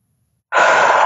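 One big, deep breath taken during an emotional tapping exercise, starting abruptly after a moment of silence, close to the microphone, loud and rushing, heard alone.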